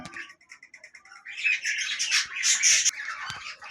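Busy chattering of fighting pet budgerigars, rapid chirps mixed with harsh squawks, growing louder and denser midway, with no talking.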